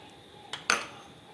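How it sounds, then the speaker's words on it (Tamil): A metal spoon stirs a mustard, cumin, curry leaf and asafoetida tempering into carrot chutney, giving two brief clinks against the vessel, the second louder, in an otherwise quiet kitchen. "தாளிப்பையும் நான் வந்து நல்லா கலந்து விட்டுடுறேன்"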